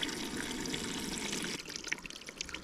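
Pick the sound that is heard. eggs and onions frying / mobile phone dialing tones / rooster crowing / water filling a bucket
water filling a bucket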